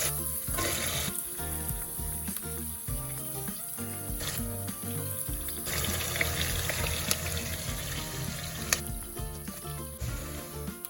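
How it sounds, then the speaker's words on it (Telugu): Chopped onions fry in a pan for South Indian vegetable khichdi, a steady soft sizzle with occasional stirring scrapes and clinks, no talking. "ఉల్లిపాయ ముక్కలు కలర్ వచ్చేంత వరకు ఉల్లిపాయల్ని వేగనివ్వండి."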